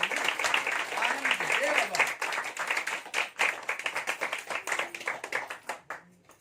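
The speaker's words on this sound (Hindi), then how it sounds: "ताली जाइए, प्रकाश प्रभु को महिमा दीजिए।" A church congregation claps along, a rapid, irregular patter of many hands that thins toward the end, with a voice speaking over it.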